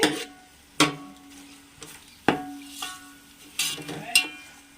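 Fresh coriander is stirred in a cooking pan for coconut rice, with a spoon scraping sharply in several distinct strokes over a light, quiet sizzle between them.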